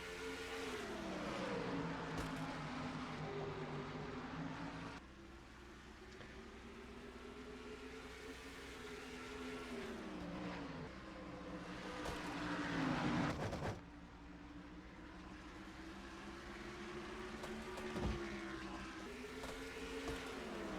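Engines of a NASCAR field at North Wilkesboro in a racing video game, a steady whining drone as a Ford and a Dodge lead the pack, rising and falling in pitch through gear changes over a long stretch.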